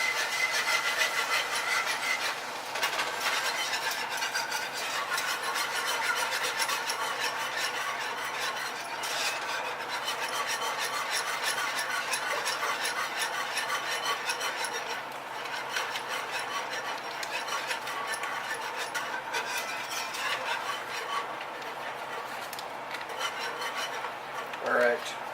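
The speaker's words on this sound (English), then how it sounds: "And slowly whisk this in." Heavy whipping cream is whisked into a garlic butter sauce in a pan for chicken pasta, giving a steady, close scraping and clinking of the whisk that carries on throughout.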